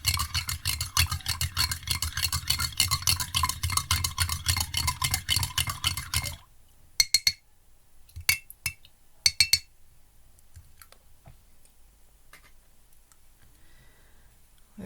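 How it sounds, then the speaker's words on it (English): Metal spoon stirring and scraping food in a pot, a fast steady run of clinking strokes for several seconds, then a few scattered knocks and clinks before quiet. "Let's stir this a bit."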